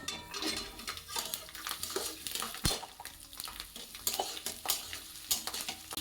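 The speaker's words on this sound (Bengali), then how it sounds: "এই রসুনটাকে আমি একটু লাল লাল করে ভেজে নেব।" Small garlic cloves fry in a pan for a green chilli pickle, with soft sizzling under repeated scraping stirs and clinks of a utensil against the pan, close and uneven in rhythm.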